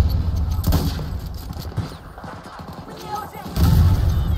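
Sharp gunshots in Battlefield 2042 ring out from a sniper rifle, with one crack early and another heavier blast near the end amid game noise and a talking player.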